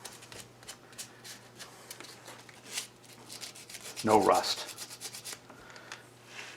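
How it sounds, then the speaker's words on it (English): Light hand sanding of a Fay & Scott lathe before painting: short rasping rubs repeat irregularly, with one louder scraping stroke midway, over a faint hum; a person briefly speaks. "doing a light sanding."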